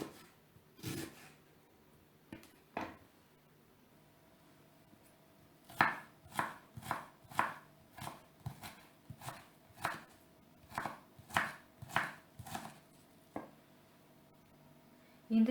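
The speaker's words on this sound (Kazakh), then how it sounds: "Пиязды кішкене саламыз. Бұны ұсақтап тураймыз." An onion is finely chopped with a knife on a cutting board, heard as a quiet run of crisp, evenly spaced thuds close by, a few scattered strikes at first and then a quicker rhythmic burst, with no talk.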